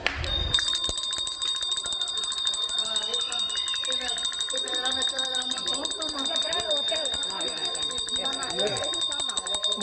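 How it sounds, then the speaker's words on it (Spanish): A bell rung repeatedly in a busy kitchen, with sustained bright ringing tones and rapid clanging under loud overlapping voices. "Campana, campana, esto merece campana."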